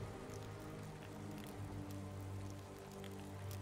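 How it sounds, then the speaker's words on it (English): Rain in the Valheim video game falls as a steady, soft, dense hiss of drops on surfaces, continuous and quiet throughout with no talking. "it's raining"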